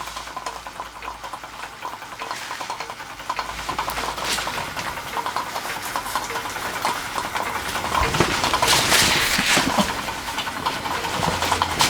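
A Stirlingkit Retrol SE-03 model steam engine runs steadily, giving a continuous close hiss and rapid chuffing from its exhaust that grows louder and busier near the end.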